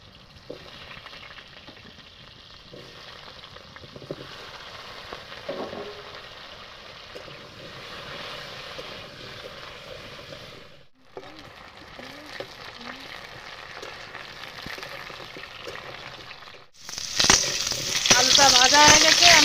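Cut potatoes fry in hot oil with a steady low crackle that cuts out briefly. A much louder, brighter sizzle bursts in near the end, with no voices.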